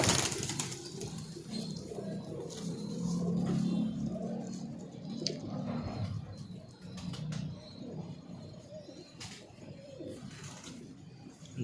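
Teddy pigeons in a Lahore loft coo with soft, throaty, repeated calls over a steady background hum, close by and moderately loud, with occasional faint chirps mixed in.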